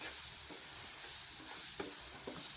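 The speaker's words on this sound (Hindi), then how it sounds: "इसे अच्छे से हम मिक्स कर लेंगे।" Semolina and egg halwa mixture stirred in a pan, giving a short, steady scraping swish over a soft sizzle, close by with no talk.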